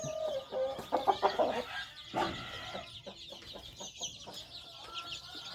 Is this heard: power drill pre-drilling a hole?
no